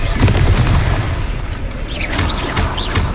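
A Confringo blasting spell in Hogwarts Legacy lands as a loud, rumbling boom during a hard-difficulty battle, with dense crackling impact noise and whooshing magical effects over continuous combat sound.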